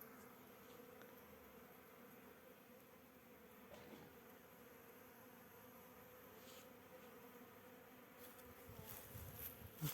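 Honey bees buzz around an alpine-style hive on a winter cleansing flight, a soft continuous hum with occasional louder passes near the end, heard from a distance and quiet overall.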